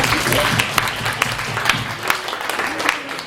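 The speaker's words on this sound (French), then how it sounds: "Un mot d'applaudissement pour Anubis et Bastet." Audience applause at a French poetry evening, a dense steady patter of many hands clapping throughout, fairly loud and close, with a few sharper individual claps standing out and no speech over it.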